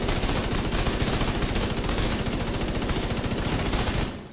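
Relentless automatic gunfire loaded with hollow point ammo in a video game, a dense, loud, unbroken stream of rapid shots lasting several seconds before cutting off abruptly.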